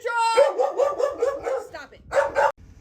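A dog barks repeatedly in quick, yappy bursts close by, pausing briefly before a final loud bark.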